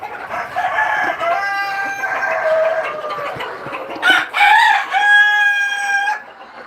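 A flock of chickens and roosters calls together, with loud crowing and steady clucking close by and overlapping, one rooster's crow standing out near the end.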